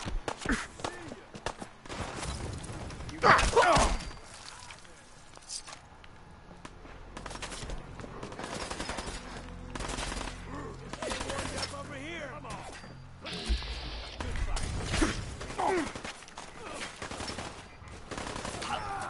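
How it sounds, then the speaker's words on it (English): Submachine gun bursts in Fallout 4's Nuka World, rapid clusters of shots rising and fading across the scene amid game ambience, with someone talking at moments. "Submachine gun."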